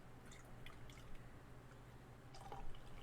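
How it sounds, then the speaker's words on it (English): Duclaw Brewing Pastryarchy Banana Bread Pudding Hefeweizen beer being poured into a glass, a quiet liquid trickle with soft drips and splashes, faint and close. "I'm going to pour myself a glass here."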